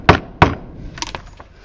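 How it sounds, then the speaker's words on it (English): Mallet striking a chisel set against a metal workpiece: two sharp, close knocks about a third of a second apart, followed by several lighter taps. "I'm using a mallet so it won't ruin my metal piece"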